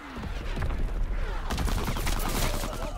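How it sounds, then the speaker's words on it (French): Enemy mortar barrage in the World War II shooter Call of Duty: WWII, a dense, loud rumble of blasts and gunfire that continues without pause, with a heavier surge of explosions partway through. "Tire de mortier ennemi, repliez-vous"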